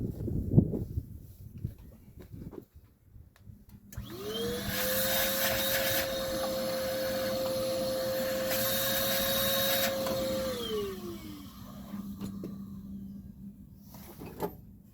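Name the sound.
vacuum cleaner during a car tune-up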